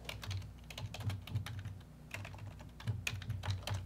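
Fingers tap out a reply on a computer keyboard, a steady quiet patter of clicking keys with brief pauses, close by, with no talking.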